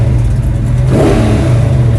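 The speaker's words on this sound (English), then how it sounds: "Give it a couple of revs." A 1970 Monte Carlo at a drag strip gets a short rev, the engine's deep mid-pitched growl swelling in a brief throttle blip over its idle, loud and close.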